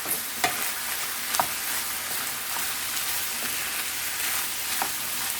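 Chunks of hot sausage brown in a pan with a constant crackling sizzle, broken by a few sharp spatula taps and scrapes, heard up close.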